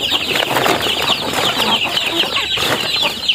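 Chickens cluck busily close by, overlapping calls with some wing flutters and farmyard rustle, no one speaking.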